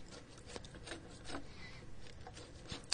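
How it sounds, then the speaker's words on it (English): A draw knife pulled across a hewn oak log, shaving the surface smooth with repeated dry rasping scrapes, fairly quiet and close, no talking. "draw knife. It's a sharpened chisel-like tool that you pull towards you."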